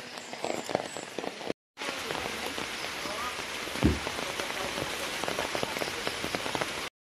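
Heavy rain pours steadily during a typhoon, a dense continuous hiss of drops on surfaces, with faint talk in the background.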